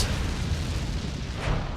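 A single deep, rumbling explosion in the video game 428: Shibuya Scramble fills the short moment, a dense low boom with a slight swell near the end.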